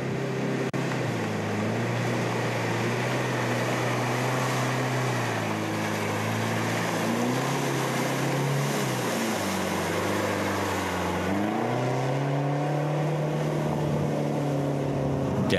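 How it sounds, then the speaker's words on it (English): A white Toyota off-road vehicle drives through mud in a driving competition, its engine giving a steady, loud droning roar that rises and dips in pitch as it works, continuous and close throughout. "Laurie Sternbeck and Sean Calcino had little problem driving through in their white Toyota"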